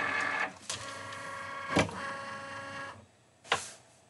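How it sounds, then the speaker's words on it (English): A Cricut cutting machine pulls in a cutting mat, giving whirring motor runs broken by a few sharp mechanical clunks, close and clear, with no talking. "So now we are going to load the mat into the Cricut."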